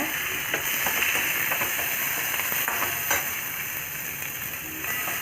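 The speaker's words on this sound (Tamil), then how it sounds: "ஒரு கடாயில் கொஞ்சமாக எண்ணெய் விட்டுட்டு கடுகு போட்டு தாளிச்சிக்கோங்க கடுகும் ஜீரகமும் போட்டு தாளிச்சிக்கோங்க" Mustard seeds and cumin crackle and sizzle in hot oil in a pan, a steady, close frying hiss with scattered small pops and an occasional stir, with no voices.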